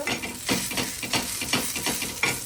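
Onions fry and are stirred in a pan until reddish brown for a village-style chicken curry. A steady, close sizzle runs throughout, with soft stirring scrapes every half second or so and no voices.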